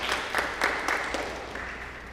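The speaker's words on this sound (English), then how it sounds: "let's give them a round of applause from at home" Applause from a church congregation at a Sunday service of Port Nelson United Church, steady broadband clapping with a few brief sharper bursts, moderately faint and heard alone without speech.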